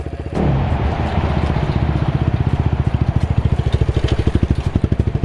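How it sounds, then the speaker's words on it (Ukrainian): A KOVI Advance 300 motorcycle engine starts up and runs close by, its rapid, even exhaust pulses thumping steadily and growing slightly more pronounced as it idles. "Якщо почуєте, що двигун реагує і збільшує оберти, значить так і залишайте."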